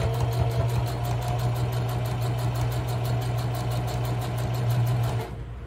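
Sewing machine running steadily while stitching fabric for a shopping bag, a continuous close motor hum with a fast regular needle rhythm that stops abruptly near the end.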